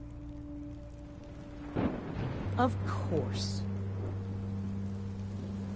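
Rain and thunder in the Minecraft Story Mode video game, a steady wash of rain with a mid-clip rumble of thunder, a low hum and a brief spoken voice.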